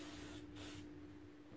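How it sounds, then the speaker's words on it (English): Two short aerosol bursts of Toyota tire mount lube sprayed onto the bead of a Segway scooter tire, a steady close hiss with a brief pause between, no talk. "Shake it up, spray the bead of the tire"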